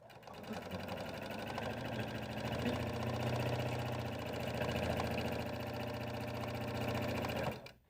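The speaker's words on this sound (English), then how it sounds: "We're going to add a top stitch to the top of our 2 accent ones. Let's go sew those now." A sewing machine top stitches along fabric pockets for a carry-all bag with a continuous, close mechanical whir. The hum stays steady for several seconds, then stops abruptly at the end.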